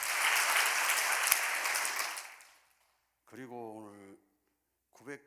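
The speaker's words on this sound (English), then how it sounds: "Why don't we give a big round of applause to congratulate his birthday." A congregation claps for a pastor's birthday at a church vigil, steady dense applause for over two seconds that fades out, then a voice speaks briefly.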